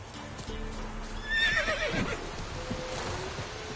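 Roach the horse neighing in The Witcher 3, a single clear whinny rising and falling midway through, with soft hoof clops and ambient outdoor noise around it.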